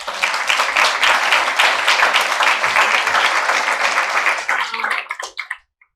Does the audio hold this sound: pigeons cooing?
no